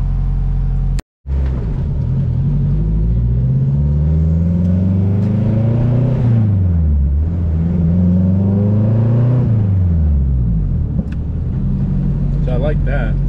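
A turbocharged Honda Civic EG on a test drive accelerates loudly from inside the cabin, its engine note climbing and falling through several gear pulls, with a sharp break near the start and talk over it.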